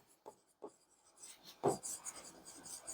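Marker or chalk moves on a board during a physics lesson, with faint scratchy strokes and short taps spaced irregularly across a quiet room, the longest rub near the middle.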